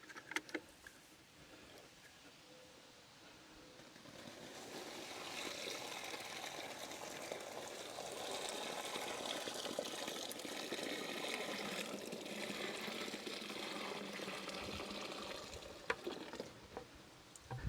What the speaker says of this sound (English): I'm going to first pour it into this feed bag.